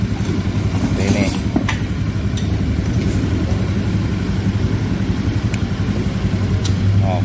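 A Honda Beat FI scooter engine runs steadily at idle close by, a constant low rumble with faint clicks and rattles over it.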